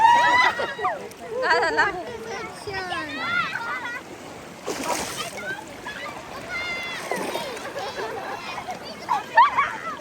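Water splashing and sloshing as a girl swims in a village river, irregular splashes under lively chatter from nearby children and women.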